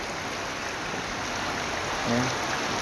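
Water from a yard flows steadily nearby as a continuous broadband rush, with a faint low murmur toward the end.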